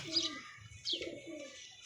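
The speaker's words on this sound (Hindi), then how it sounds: "हमारे कबूतर हैं" A domestic pigeon cooing up close, two soft throaty coo phrases in quick succession with a brief chirpy onset, clear and alone with no talking.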